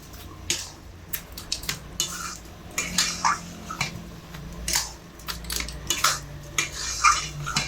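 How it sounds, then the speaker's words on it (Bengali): Grated carrots and sugar are stirred in a pan for carrot halwa. A spoon clinks and scrapes against the metal in irregular bursts, close and moderately loud, over a faint low hum. "চিনি দিয়ে গাজর খুব ভালোভাবে কষিয়ে নেব, যাতে করে চিনি আর গাজর খুব ভালোভাবে মিশে যায় একসঙ্গে।"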